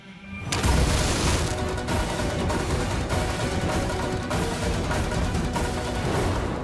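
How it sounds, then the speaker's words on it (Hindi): A loud blast in a TV drama scene rips out suddenly, then becomes a sustained roaring, crackling rumble that stays dense and heavy for several seconds. "धमाका जोरदार"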